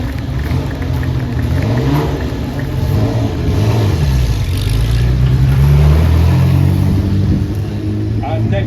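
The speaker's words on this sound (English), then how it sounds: "This is the 1960 Maserati 3500 GT Spider by Vignali" A 1960 Maserati 3500 GT Spider by Vignali runs and revs at an outdoor concours parade, its engine note rising and falling steadily throughout, with someone talking over it on a loudspeaker.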